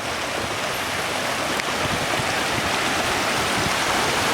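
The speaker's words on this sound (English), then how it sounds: "this is Kinsey Creek" Kinsey Creek flows beside the Lost Coast Trail beach, a continuous rushing wash of water with steady broadband hiss, close and fairly loud, with no voices.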